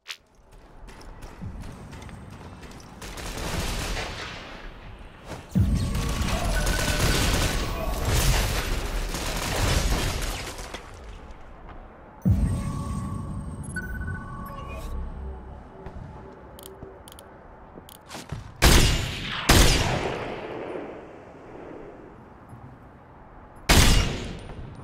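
Sniper rifle gunfire from an SVD in the Ghost Recon Online video game, with several sharp, loud shots in scattered bursts over a busy background of game noise.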